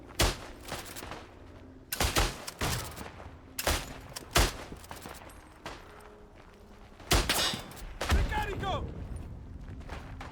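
Gunfire in the WWI shooter game Isonzo: several sharp broadband shots in separate bursts, loud and close, with mid-game ambience between them and a rougher sustained burst near the end.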